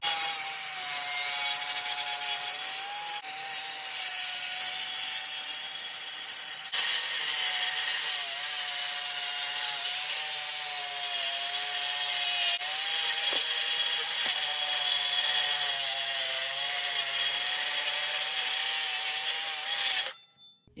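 A thick piece of wood is hand sawn in half while building a budget RC mega-ramp, steady rasping back-and-forth strokes running continuously and loud for about twenty seconds, close up with no voices.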